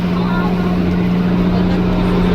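Motorboat engine droning steadily near the shore off Boracay's large beach resorts, a loud continuous hum with strong low tone throughout, no pauses.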